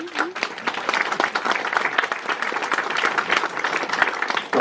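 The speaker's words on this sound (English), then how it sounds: "Don't clap too much, it goes to the heads." A conference audience applauds steadily, with dense clapping that holds at an even level throughout.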